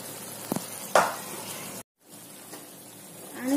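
A ground onion and coconut paste for a spicy dry fish gravy hits a hot pan, with a couple of stirring scrapes followed by a soft, steady sizzle, close and alone.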